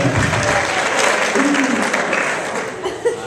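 Loud, dense applause from a stage hypnosis show audience fills the whole moment, steady throughout with a brief voice and faint chuckles mixed in near the end.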